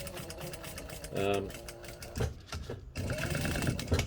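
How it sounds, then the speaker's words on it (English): Industrial sewing machine stitching fabric under high thread tension, short bursts of close mechanical whirring broken by pauses, with a person talking over and between the runs. "These industrial machines allow you to run a higher tension on the thread"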